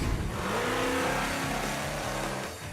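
A Pro Mod drag car with an 870-cubic-inch V8 big block running on nitrous roars on qualifying day at Emirates Motorplex, its engine note rising and falling as it revs, loud and sustained throughout.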